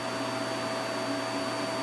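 A household vacuum cleaner runs steadily at close range, a loud continuous motor hum with a constant tone and no break over the short stretch.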